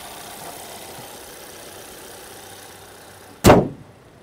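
A Cupra Leon door shuts with a single solid thud close by, after a low steady hum inside the cabin.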